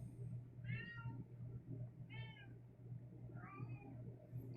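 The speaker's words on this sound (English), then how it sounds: "Meow, meow, meow, meow. I hear you. We all hear you." A cat gives three distinct meows at even intervals, faint and somewhat distant, over a steady low hum.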